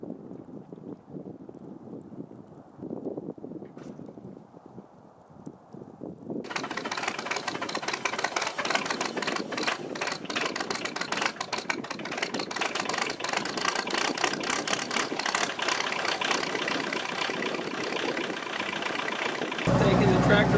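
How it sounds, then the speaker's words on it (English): A tractor drives down a snowy county road in deep cold; after a quiet stretch its engine rumbles in loudly and stays a steady, rattling drone with wind buffeting the microphone. "Taking the tractor for a little drive down the county road here"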